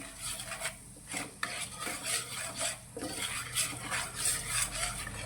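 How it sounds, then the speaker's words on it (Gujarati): Spice masala with asafoetida is sautéed in a little oil in a kadai for poha chevdo, heard as a spoon repeatedly stirring and scraping against the metal pan over a faint sizzle. "આ મસાલાને આપણે ત્રીસ સેકન્ડ જેવો સાતળી લઈશું"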